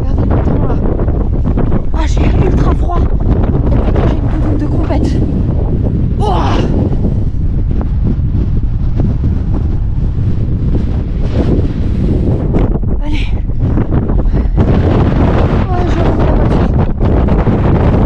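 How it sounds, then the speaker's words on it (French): Heavy wind buffeting the microphone throughout, a constant low roar with gusts, while a person talks over it in French, at the salt marshes of Walvis Bay, Namibia. "Oh, le vent."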